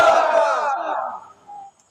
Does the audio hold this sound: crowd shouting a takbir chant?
yes